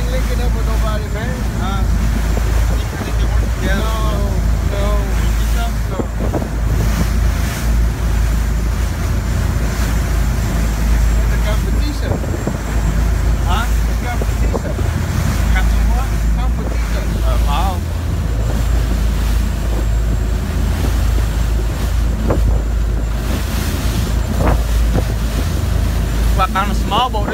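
Small boat pushing through choppy sea on the way to a reef, with steady wave slosh, hull slaps and wind buffeting the microphone throughout, while people talk intermittently over the noise.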